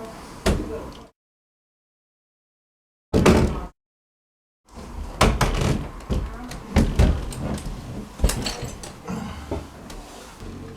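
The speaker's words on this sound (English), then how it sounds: "First thing you do is get the door up against the jamb," A wooden door, hung without a prehung frame, is knocked and shifted against its jamb in bursts of close thuds and clatter, with two stretches of dead silence between the handling noises.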